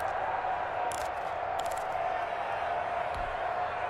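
A stadium crowd roars continuously in the Madden NFL 21 football video game, a steady, distant wash of noise with a few brief whoops rising above it.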